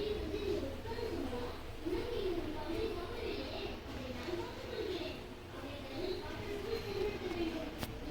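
Sparrows, mynas and crows call repeatedly in the background, cooing and chirping over a steady low hum, with faint indistinct voices now and then.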